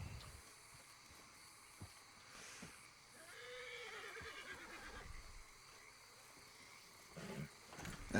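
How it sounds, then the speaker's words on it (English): Horse neighing in a swampy outdoor setting, a drawn-out whinny in the middle amid frog and insect background, with a few hoof-like thumps near the end. "I despise this horse."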